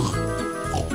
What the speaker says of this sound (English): Some pigs have wandered off from the farm.